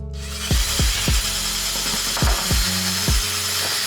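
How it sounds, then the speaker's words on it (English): A Black & Decker drill with a wire wheel attachment, used in a car engine bay, whirs in short repeated bursts. Each burst starts with a spin-up, and the pulses come several times in an uneven rhythm, close and loud. "I'm gonna see if this good old Black & Decker drill that I have with this attachment is gonna be enough to get into that angle."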